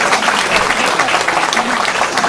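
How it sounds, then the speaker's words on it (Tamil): Audience applause at a live Tamil comedy show, a dense steady patter of many hands clapping throughout, loud and close, with no break. "எல்லாரும் சேர்ந்து கை தட்டிட்டிங்கன்னா அதையே நான் வணக்கம்னு எடுத்துப்பேன்."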